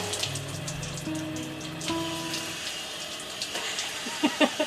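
Water runs steadily from an outdoor shower on a private island in Nicaragua, a constant close splashing hiss with faint tonal sounds and a few louder drips near the end.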